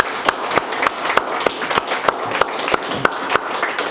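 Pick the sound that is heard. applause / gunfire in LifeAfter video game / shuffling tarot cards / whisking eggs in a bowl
applause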